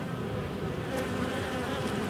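Honeybees from a wild colony in a UK bee yard buzz around their hive in a dense, steady hum that fills the air without a break.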